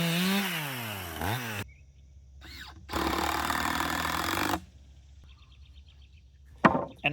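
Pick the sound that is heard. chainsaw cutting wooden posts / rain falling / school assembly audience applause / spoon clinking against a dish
chainsaw cutting wooden posts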